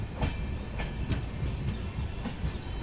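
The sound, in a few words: passenger train 17423 Tirupati-Chikkamagaluru running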